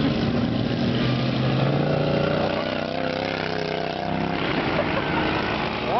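Stock-engine racing lawn mowers at a Farmers Fest lawnmower race in Pigeon, Michigan, their small engines droning together and rising in pitch as a heat gets underway, a steady buzzing roar throughout.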